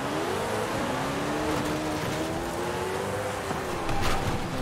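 A modified Jesko hypercar with all-wheel drive at full throttle in a racing game, its engine note climbing steadily in pitch through a continuous loud, close roar with a brief surge near the end.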